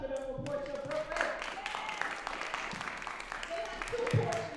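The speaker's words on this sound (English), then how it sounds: "Please, can we clap it up for Portia Brooklyn?" An audience at a college career summit applauds a sponsor with a few seconds of moderate, fairly quiet clapping. Scattered voices and cheers mix in as the clapping continues.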